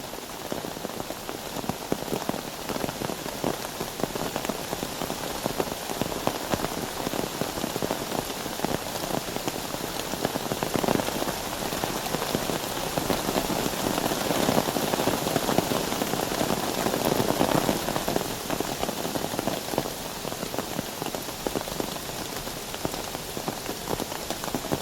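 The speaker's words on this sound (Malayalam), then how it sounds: "നല്ല മഴയാ, കാറ്റും ഉണ്ട്." Heavy rain pours in a forest, a dense, continuous hiss of drops drumming on surfaces, with wind, steady and close throughout with no voices.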